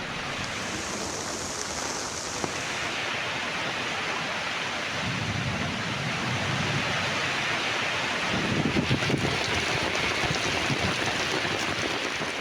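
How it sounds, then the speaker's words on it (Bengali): Heavy rain pours steadily with rolling thunder rumbles swelling midway and near the end, a dense continuous downpour with no voices. "শীতলতার পরশ নিয়ে অঝরে ঝরল বৃষ্টি।"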